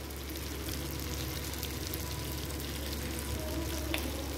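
Sardines (mathi) sizzle and crackle steadily as they fry in a pan, a dense, even hiss that holds at a constant level throughout with no voices.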